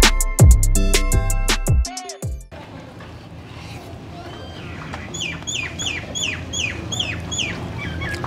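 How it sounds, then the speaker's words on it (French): Small birds chirp overhead at a restaurant in Dubai, with quick repeated high chirps in the second half over steady diner chatter and room noise, following a loud tonal passage at the start. "J'ai des petits oiseaux au-dessus de la tête."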